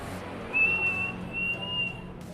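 A person whistles one steady, thin high note, held for over a second with slight wavering, close by against quiet background noise, as part of imitating a cricket.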